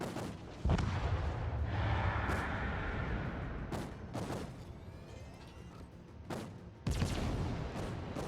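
Naval gun salvos in the World of Warships video game boom out in several heavy blasts spread across the clip, each followed by rolling rumble and hiss, with steady battle ambience in between.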